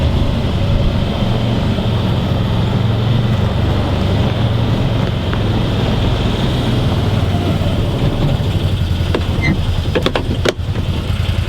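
A 2019 Can-Am Defender XT HD8 utility vehicle driving, with a steady, loud engine drone and rumbling road noise throughout, and a few clicks and knocks near the end.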